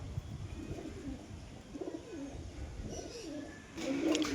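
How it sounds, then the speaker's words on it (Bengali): A pair of Giribaz pigeons, a male and a female, coo softly and repeatedly in low rolling phrases at close range, with a brief burst of rustling and a louder coo near the end. "দুটো গিরিবাজ কবুতর।"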